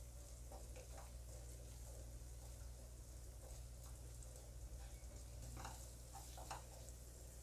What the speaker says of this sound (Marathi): ही ग्रेव्ही आपल्याला साधारणतः 5 मिनिट फ्राय करायची आहे छान।